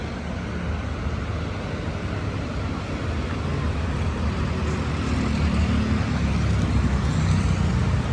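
Steady engine drone and road rumble from a motorbike moving through congested Bangkok traffic, a continuous low roar that swells slightly toward the end, with no voices.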